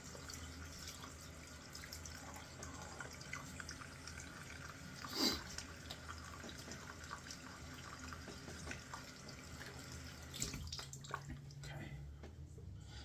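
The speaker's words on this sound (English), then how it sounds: "I'm gonna rinse everything off" Water running and splashing while a shaved face is rinsed after using a Rex Ambassador razor, a soft continuous trickle at a sink with a brief louder splash midway.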